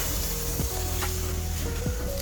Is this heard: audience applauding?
no